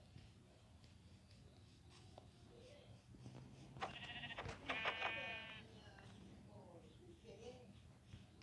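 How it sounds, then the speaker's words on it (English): Sheep in modded Minecraft bleat twice in a row in the middle of the clip, loud and wavering, over faint background game noise with light talk. "So I need to find some sheep to kill to get some wool."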